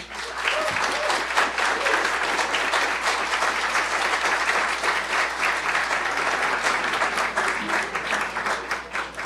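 An audience at a conference at Harvard gives a sustained round of applause as the first speaker, Eduardo Suplicy, is introduced, with steady, moderately loud clapping and no speech.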